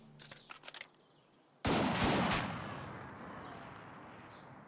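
Sudden loud burst of gunfire in the World War 2 strategy game Headquarters, British campaign: faint shots early on, then a heavy, dense volley that rings out and slowly decays into a lingering rumble.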